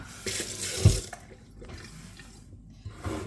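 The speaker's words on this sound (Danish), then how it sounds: "så lige put en lille bit smule vand på bordet her" Water runs from a kitchen tap onto a work table while preparing sourdough bread, a short splashing flow with a louder splash near the start, fairly close and with no one speaking.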